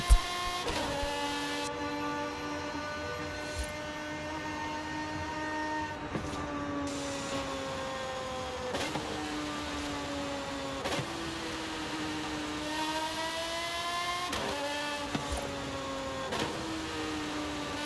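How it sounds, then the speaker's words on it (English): A car engine in Forza Horizon 5 revs steadily up through the gears from a launch-control start, with a whining, climbing tone that drops sharply at each gear change, repeated several times over a steady background hum. "Even the noise of the gear changes."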